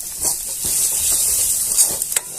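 Curry leaves and chopped coriander sautéing in a small amount of oil, a steady close hiss and sizzle with faint stirring taps, running alone without talk.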